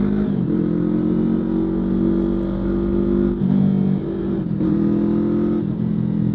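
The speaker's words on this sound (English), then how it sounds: "Man, I really like how this exhaust sounds." A 2026 Yamaha R3 motorcycle with a Coffman's slip-on exhaust drones steadily with a deep, throaty exhaust, briefly dipping between gear shifts as it pulls along, loud and close.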